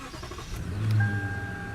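A 4.6-liter V8 engine in a 2017 Lexus LS460 cranks and fires, catching with a brief low rumble and settling into a steady idle, close by.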